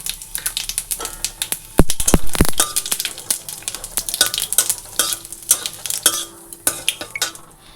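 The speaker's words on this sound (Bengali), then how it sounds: "এবার ডাল ফোড়ন দেব তেজপাতা আর শুকনো লঙ্কা আর গোটা জিরা দিয়ে ফোড়ন দিয়ে দিব" Bay leaf, dried red chili and whole cumin hit hot oil in a pan, crackling and spitting in sharp bursts with loud clanks of a spoon against the pot, close and busy, with no talking.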